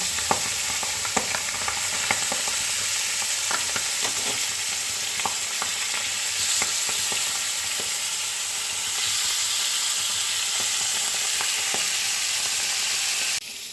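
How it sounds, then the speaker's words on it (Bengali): Pabda fish fry in plenty of oil in a pan with a loud, continuous sizzle and frequent sharp crackles and pops, heard close up with no talking. "পাবদা মাছ ভাজা একটু তেল বেশি লাগে সবসময় না হলে মাছগুলো ভেঙে যাওয়ার চান্স থাকে"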